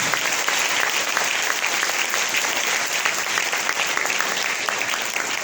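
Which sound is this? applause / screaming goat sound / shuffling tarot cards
applause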